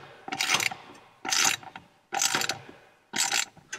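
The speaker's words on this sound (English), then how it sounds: "Dad's tightening the two bolts." Wrench ratcheting as two bolts are tightened during a tractor cab install, heard as four distinct bursts of rapid clicking with short pauses between them, close and clear with no talking.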